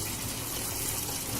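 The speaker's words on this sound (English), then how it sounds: "turn the water on so we can rinse the basin" Steady gush of water running from a sink tap into a basin for rinsing, a constant close hiss with no pauses.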